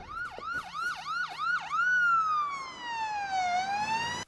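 An ambulance siren in the film Wishmaster 3: Beyond the Gates of Hell sounds close and loud, first a quick repeated whooping yelp, then a long slow wail rising and falling.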